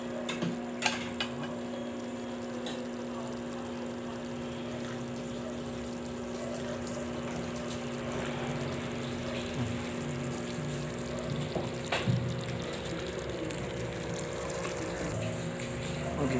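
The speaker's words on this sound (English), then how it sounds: "Just let it simmer." Mandarin pork stir-fry sauce simmering and thickening in a pan, a steady low bubbling hiss with faint sizzle running evenly throughout, close and moderately quiet, with occasional small clicks and no talking.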